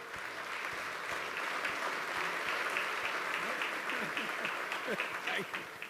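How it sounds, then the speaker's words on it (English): A room of guests at a breakfast event gives Clem Sunter a warm, sustained round of applause, a dense and fairly soft patter of claps with some murmuring underneath. "Please give a warm, warm sense of applause to Mr. Clem Sunter."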